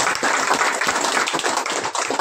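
An audience claps hands in a Marathi talk on knee and shoulder pain, dense steady applause close by with no speech over it.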